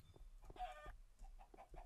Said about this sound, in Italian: Altri polli.